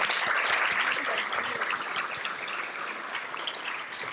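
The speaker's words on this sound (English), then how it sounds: "Let's give them another round of applause." A ceremony audience at an awards and scholarships event claps in a steady, dense patter that holds for the whole stretch, fairly distant and even, with no voices over it.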